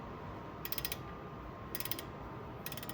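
Ratchet wrench clicking during an oil change on an Acura MDX, three short bursts of rapid metallic clicks separated by pauses, faint and close over a quiet background.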